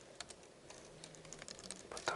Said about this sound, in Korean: 여기다가 헤더라고 타이핑을 하나 해줄게요